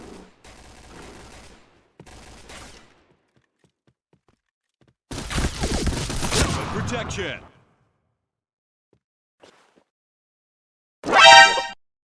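Shotgun fire in the video game Point Blank: short clusters of loud, crackling blasts separated by silent gaps, with a longer rumbling burst midway and one sharp final shot.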